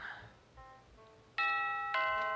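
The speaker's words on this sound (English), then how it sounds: "Ding dong!" A doorbell sounds from a Dr Jekyll and Mr Hyde story game set on Bolton Street: soft tones at first, then two loud, ringing ding-dong chimes that linger, close with no voices.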